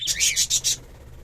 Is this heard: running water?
no